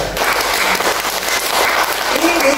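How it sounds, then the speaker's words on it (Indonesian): Congregation applause during a Thursday church worship service, a dense, steady wash of clapping filling the room for a couple of seconds, loud and even throughout. "Tepuk tangan buat semua."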